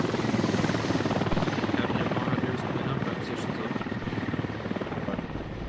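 A helicopter in the military shooter game Squad hovers nearby with a loud, steady rotor chop and engine drone that stays constant throughout, with faint voices blended underneath.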